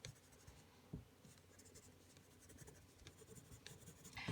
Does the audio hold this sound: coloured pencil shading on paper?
yes